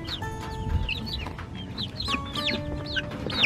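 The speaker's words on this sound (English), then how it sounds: "We officially moved the little chicks into the coop." Young chicks moved into a backyard homestead coop cluck and peep constantly, a busy chorus of high chirps and soft clucks overlapping at close range, fairly loud with no talking.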